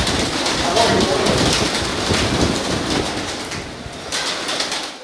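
Racing pigeons in Karachi coo and flutter amid a dense, continuous outdoor wash of noise, with soft bird calls surfacing throughout.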